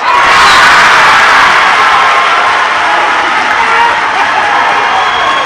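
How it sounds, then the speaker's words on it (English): Bulldog volleyball fans at a Burbank home match erupt in loud, sustained cheering, shouting and whooping after a long rally against Dripping Springs, a dense crowd roar that holds steady throughout. "Bulldog crowd goes wild"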